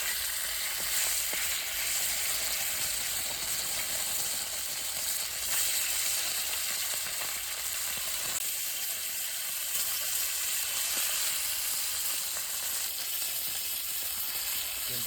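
Fish frying in shallow oil in a wok over a village wood fire, a steady close broadband sizzle that runs unbroken throughout with faint stirring and crackle, no voices.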